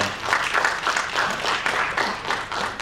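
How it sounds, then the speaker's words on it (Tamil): An audience at a Tamil film music launch event breaks into dense, sustained applause, many hands clapping together loudly and evenly for the whole stretch. "ஒரு தடவை நம்ம எல்லோரும் கைத்தட்டிடுவோம்"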